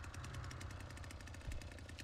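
In a Texas Chain Saw Massacre video game, a chainsaw idles with a steady rough rattling engine drone and rapid pulsing, close and continuous at moderate level.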